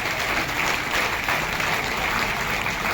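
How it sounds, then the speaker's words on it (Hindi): Loud, sustained applause from an audience at a Haryana literary and cultural event, a dense unbroken wash of clapping with no voices over it. "एक बार जोरदार तालियां ऋचा के लिए।"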